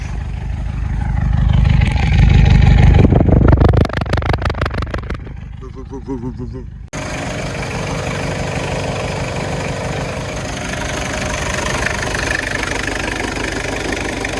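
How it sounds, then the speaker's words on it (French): Ferrari car engine running close by, a loud throaty rev that rises and falls, then settles into a steady rumbling idle, with people talking over it. "On va faire tourner l'auto."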